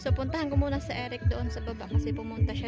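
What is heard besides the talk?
No distinct noise like a dog, phone or traffic.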